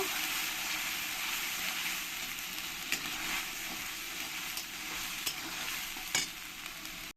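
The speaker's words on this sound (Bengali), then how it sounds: "পেঁয়াজ সরষা দিয়ে আমি কিছুক্ষণ কষিয়ে নেব" Onion paste with mustard fries in a pan under a steady, close sizzle, with repeated scraping stir strokes and occasional spoon knocks.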